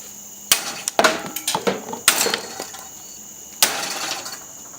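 A Ronin katana strikes PVC pipe in a series of sharp, loud impacts, several close cracks and thwacks in quick irregular succession, some followed by rattling clatter of pieces.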